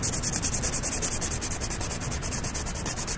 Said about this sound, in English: I got to the final sanding stage with a 220 grit sandpaper, which smooths it out pretty well.